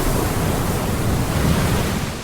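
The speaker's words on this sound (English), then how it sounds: "As waves crash against the shore, they create low-frequency sounds, unique to that stretch of coastline." Ocean waves crashing against the shore, a dense, steady roar of surf with heavy low rumble, loud and continuous, with no voices.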